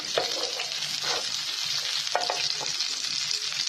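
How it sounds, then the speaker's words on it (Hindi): Cumin seeds, chillies and bay leaf fry in hot oil in a pan, giving a dense continuous sizzle with soft stirring scrapes on top, close and steady without speech. "अब इसमें मैं ये ज़ीरा और मिर्चें, तेज पत्ता इसमें डाल के थोड़ा सा इसको करेंगे"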